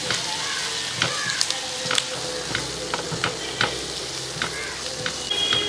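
Sliced onions for a cauliflower chickpea masala curry sauté in a pan, giving a continuous close sizzle broken by the scrapes and taps of a spoon stirring at irregular intervals.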